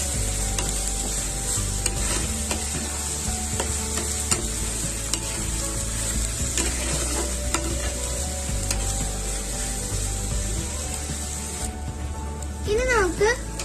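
Curry leaves drop into wilted onions frying in a pan for karimeen pollichathu, giving a steady, close hiss of oil with scraping stirs throughout and a brief tonal sound near the end.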